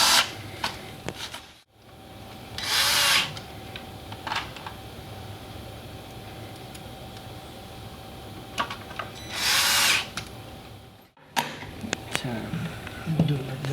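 A power drill drives small gold screws into a pantry cabinet, with short high whirring bursts standing out against continuous background noise and room sounds.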